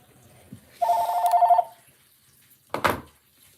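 A landline telephone rings once in a short electronic burst, followed a moment later by a sharp clatter, close by and with no talking.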